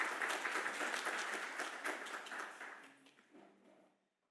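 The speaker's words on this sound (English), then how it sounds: "Please help me give him a round of applause as he comes up." Audience applause for a speaker walking up to the stage at a South African education and youth employability event, steady dense clapping that gradually thins and fades away near the end.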